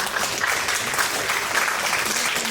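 Applause at a concert for a Jerusalem Opera soprano soloist singing Arditi's Il bacio, a dense, steady wash of clapping filling the hall with no voices over it.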